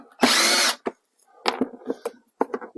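A power drill removes Torx screws inside a Sprinter van: one short, loud motor burst followed by scattered clicks and handling noises, with no talking.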